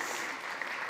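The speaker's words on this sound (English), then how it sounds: "Round of applause." Audience applause at a conference session, a broad, even patter of many people clapping together, fairly soft and distant, continuing steadily without talk.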